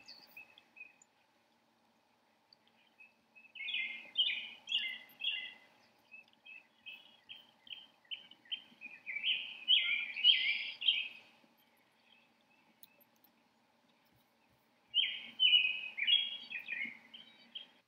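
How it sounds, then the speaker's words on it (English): Bird calls at a marsh, where red-winged blackbird and robin sing: several bursts of bright chirping and trilling phrases at a moderate distance, separated by quiet gaps, with a faint insect-like hum beneath. "Oh, there was the red-winged blackbird."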